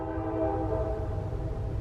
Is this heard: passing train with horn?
yes